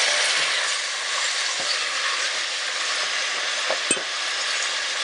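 Chopped tomato goes into a pan of golden brown onions, giving a loud, steady frying sizzle that carries on alone with a few faint knocks and clinks.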